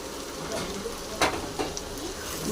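Semolina frying with vegetables in a pan, a soft continuous sizzle with a couple of brief scraping stirs, heard close.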